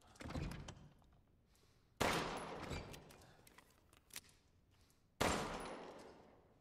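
Heavy doors in the horror video game Resident Evil Village, with three loud booming slams or bangs, each ringing out and fading, separated by quieter creaks and knocks.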